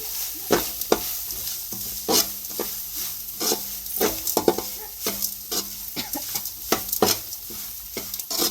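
Grated coconut stirred into a hot pan for a Tamil lunch dish, with repeated sharp scrapes and taps of a spoon against the pan over a soft continuous sizzle, close and fairly loud, no voices.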